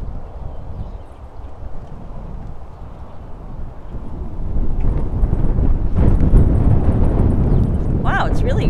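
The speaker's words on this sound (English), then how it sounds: "Wow, it's really quite windy." Strong wind in the Florida Everglades buffeting the microphone as a steady low roar that grows louder partway through, with faint talk underneath.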